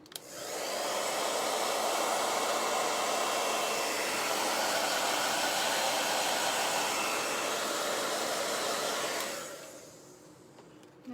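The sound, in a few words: hair dryer drying chalk paste on a transfer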